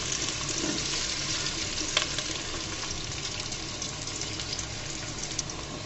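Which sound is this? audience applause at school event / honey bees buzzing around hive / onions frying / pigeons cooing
onions frying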